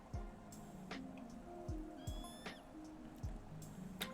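Cats meowing in the PowerWash Simulator video game, with several short meows repeating at intervals over steady game ambience and faint rain-like background.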